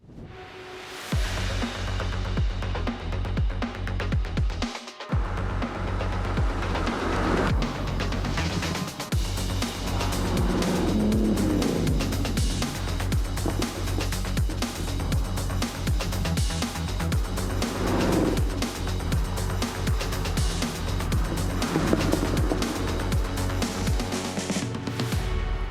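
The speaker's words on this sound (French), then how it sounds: "Bon, alors ce moteur, maintenant, on va le démarrer." A Porsche 911 964 Turbo with a 3.6-litre engine cranks briefly, then fires and settles into a steady, loud, rumbling idle that carries on unbroken for over twenty seconds, heard close up.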